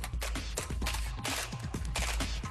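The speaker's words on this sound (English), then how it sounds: "Simmunitions are like paintballs, but can be shot through real weapons that have specially fitted barrels" Simmunition paint-like rounds fired from real weapons fitted with special barrels during SWAT training: a dense, loud, continuous barrage of rapid shots and cracks with no pauses.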